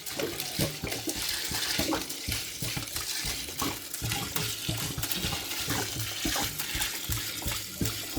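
Water splashing and sloshing as it is stirred into pails of chicken feed, a steady close wet churning with intermittent knocks and splashes.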